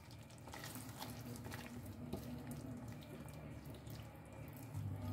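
Tap water runs steadily and close by, splashing into a cooking pot being rinsed while doi aloo is prepared in a home kitchen, a continuous hiss with no break.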